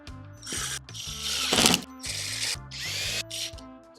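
A power drill whirs in several short bursts, starting and stopping with brief pauses between, close by and with no talking.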